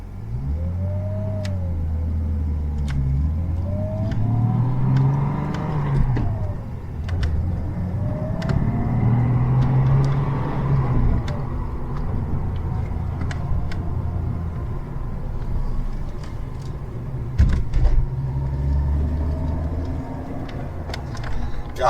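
A Mercedes 190E W201 with a turbocharged M103 engine pulls away and drives off, its engine revving up and down through several gear changes over road and tyre noise, close and fairly loud, with no one speaking.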